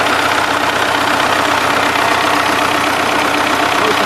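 The engine of a DT-75 tractor runs at a steady idle with a constant close, loud mechanical drone and a faint knock from a worn crankshaft.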